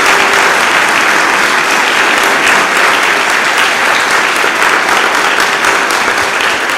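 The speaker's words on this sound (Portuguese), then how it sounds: "Dê uma salva de palmas" Sustained, loud applause from a church congregation fills the room, dense and even clapping from many hands continuing for several seconds without pause.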